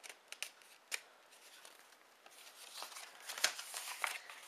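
Paper card being folded and creased by hand, producing soft, quiet crinkles and a few sharper crisp snaps at close range, with no talking.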